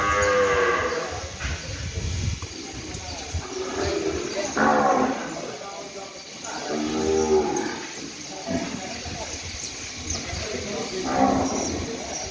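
Cows moo several times, long low calls spaced apart, close by with farmyard background noise near a milking area.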